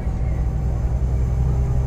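A Scania K410 bus engine with a Euro 5 powertrain pulls at full throttle, a steady, loud, low drone heard from inside the cabin.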